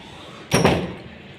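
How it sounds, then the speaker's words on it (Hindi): An indoor room door is pushed shut in a single solid thump, close and fairly loud, followed by a short fading rattle and then quiet. "मैं दरवाज़ा यहाँ का भी बंद कर दूँगी"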